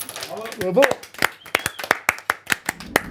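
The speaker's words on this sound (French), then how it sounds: "On peut s'applaudir." A small group of friends clapping for themselves, a run of sharp, fairly even handclaps close to the mic right after a brief spoken exclamation.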